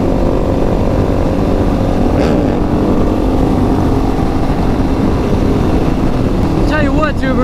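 A group of motorcycles, including a supermoto, riding along a road in Centralia, Pennsylvania, with loud, constant engine roar from close by and higher revving passes near the end.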